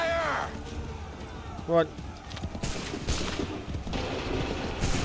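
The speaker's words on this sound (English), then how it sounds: "Wait for my signal. Fire!" A line of soldiers fires a musket volley on command in Assassin's Creed 3, a sharp burst of gunfire amid battlefield noise, with a voice speaking briefly just before.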